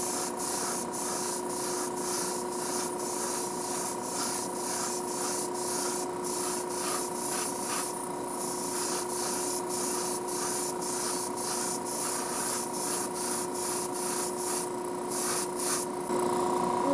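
A small free airbrush sprays paint with a steady hissing rush, fed by a compressor, with faint pulsing texture running continuously and close by for the whole stretch.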